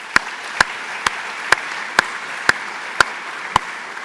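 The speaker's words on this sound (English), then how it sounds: "give them a round of applause for all their efforts" Audience at a university welcome meeting applauding the art programme curators of a symposium; about nine sharp, evenly spaced claps ring out at a steady slow rhythm over quiet room tone.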